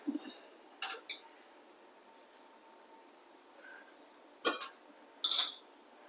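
An appam pan is set down on a kitchen stove with a few faint, scattered metallic clinks and taps spread across a quiet background.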